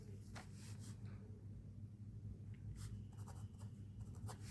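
Pen scratches on paper while math problems are written out, giving quiet irregular strokes over a low, steady room rumble.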